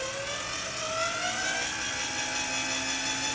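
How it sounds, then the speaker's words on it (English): Motor of an RC helicopter runs up and holds a steady high-pitched whine, with a rising tone early on as it spins up, loud and continuous with no voices. "flip that motor kill switch off, and give her a test, make sure she fires up"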